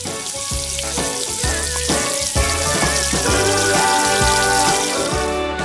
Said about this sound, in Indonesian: Habis itu kita goreng lagi deh.